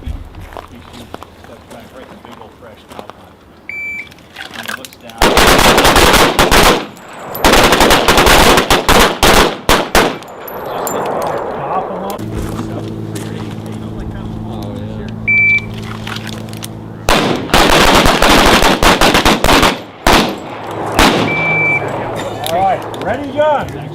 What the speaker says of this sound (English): We're going to fire 3 rounds from ready gun in 5 seconds.